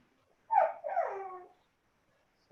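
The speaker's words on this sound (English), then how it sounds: "my dog is out and whining right now" A dog whines in a long drawn-out cry of two joined phases, fairly close and loud, then silence before a brief restart at the end; no one speaks.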